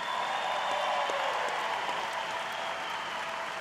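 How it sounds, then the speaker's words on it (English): An audience at the Patriot Games closing ceremony in an academy hall in Geneva, Ohio claps in a steady, even wash of applause that holds throughout, with faint crowd murmur beneath. "Let's give everyone a round of applause in here."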